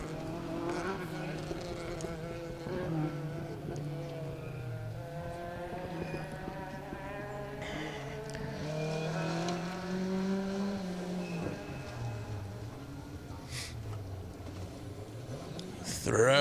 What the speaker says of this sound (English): Throw in the Escort into the hairpin.